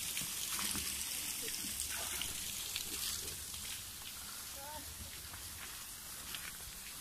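Water flows steadily along an outdoor walk, a broad continuous rush that stays loud throughout and eases slightly in the second half, with faint background noise.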